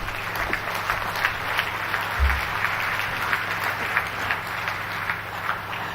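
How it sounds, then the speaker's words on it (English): Scattered applause from people in a mission control room after the ExoMars spacecraft launch, modest and somewhat distant clapping over a steady room hum, without clear speech. "People are applauding."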